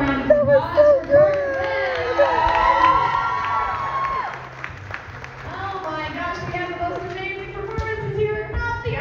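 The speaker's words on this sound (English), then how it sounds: "one more round of applause" An audience at a pole dance showcase applauds, cheers and shouts loudly and close by, with whoops over clapping that fade toward the end while voices carry on.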